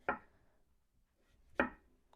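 A knife cuts peeled pumpkin into strips on a board: two crisp, close chops about one and a half seconds apart, with a fainter third cut at the end, in a quiet kitchen.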